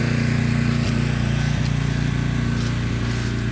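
A Toro recycler lawn mower runs steadily while mowing grass in a front yard, its engine giving a loud, even, close-up drone with a constant low hum and faint periodic knocks throughout.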